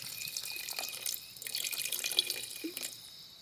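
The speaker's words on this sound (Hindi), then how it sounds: "अभी इसमें करीब आधा कप पानी डाल देंगे ग्रेवी के लिए" About half a cup of water is poured into a pan of fried spices to make gravy over a jungle campfire, a faint, trickling splash with light clinks, heard without talk.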